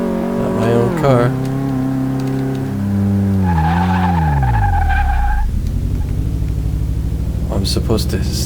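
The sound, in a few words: car skidding while braking in Car Mechanic Simulator 2018 video game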